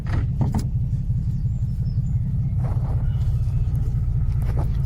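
An Austin A125 Sheerline driving along with a steady low engine rumble, heard close and continuous, with a few faint mechanical clunks like gear changes mixed in.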